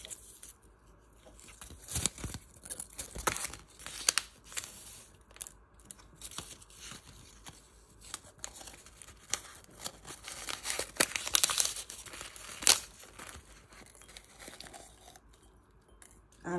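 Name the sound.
tearing open a packet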